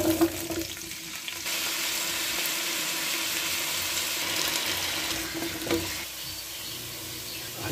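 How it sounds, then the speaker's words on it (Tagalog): Ingredients for kaldereta sizzle and crackle in hot oil, a steady, close frying hiss that swells after the first second and holds with faint stirring clatter throughout. "Prito na po natin sila."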